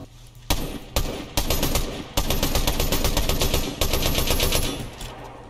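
Rifle fire in Fortnite Chapter 5, a rapid run of loud, close shots in several bursts with short gaps, set against ongoing game ambience.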